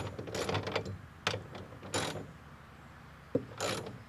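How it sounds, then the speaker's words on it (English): Car tie-down ratchet straps with 16-inch chain anchors being tightened on a trailer with wrenches, giving scattered mechanical clicks and ratcheting bursts at close range, with a few sharp metallic knocks between quieter pauses. "And then we'll get some wrenches on here and tighten her down."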